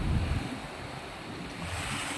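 Sea waves of Leyte Gulf at Pacific Point, San Jose, Tacloban City, roll and wash in a steady broadband roar, mixed with heavy wind buffeting the microphone.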